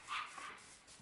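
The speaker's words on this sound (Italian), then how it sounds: "Intanto il mio cane c'è, cioè, che sbotta, che continua a abbaiare" A pet dog gives a single short bark, indoors and slightly distant, fading into quiet room tone.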